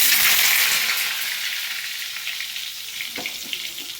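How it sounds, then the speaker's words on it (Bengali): Pointed gourd (potol) pieces frying in hot oil, a dense continuous sizzle that starts loud and slowly eases, with faint crackles and a soft clink near the end. "পটলগুলো লাল লাল করে সুন্দর করে ভেজে নেব।"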